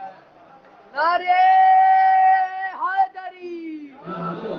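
A crowd at a majlis, a Shia religious gathering, chants religious slogans in loud, sustained unison calls and answers, with a leading voice rising over the massed voices.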